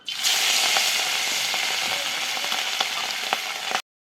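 Hilsa fish frying in a hot wok, a steady close sizzle of oil with scattered pops and crackles running unbroken for nearly four seconds before cutting off abruptly.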